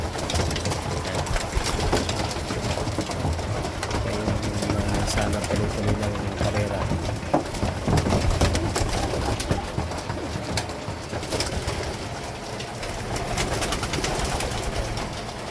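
Racing pigeons coo in a busy loft amid constant rustling and flutter, with someone talking over the birds throughout.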